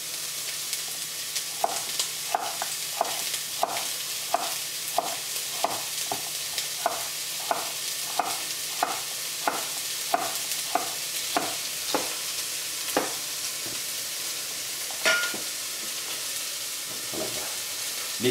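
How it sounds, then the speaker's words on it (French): Celery and onion sauté in a pan for an Irish vegetable stew, a steady soft sizzle broken by regular scraping strokes of a spoon stirring roughly every half second, close and with no one talking. "Les 3 branches de céleri avec l'oignon. Vous faites revenir pendant à peu près 5 minutes."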